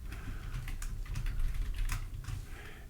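Fingers tap out a name on a computer keyboard in a quick, dense run of soft clicks, fairly quiet and close, with no voice over it.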